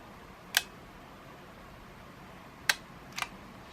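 Three faint mechanical clicks of a Yashica Electro 35 film camera shutter at slow speed over quiet room hiss, one early, then a pair spaced closer together near the end.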